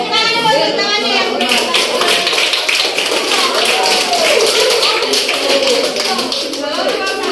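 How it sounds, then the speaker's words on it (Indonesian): A classroom group of children clapping hands together, a dense rapid burst of claps close by and continuous, mixed with children's voices and chatter. "Tepuk tangannya, tepuk tangannya"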